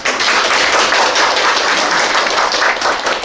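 An audience at a Sejong education forum breaks into loud, sustained applause, with dense, even clapping from many hands filling the hall for several seconds.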